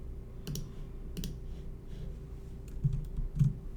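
Computer keyboard keys clack in a few sparse, separate clicks over a faint steady hum, close and quiet, with no voices.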